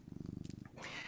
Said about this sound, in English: I hear purrs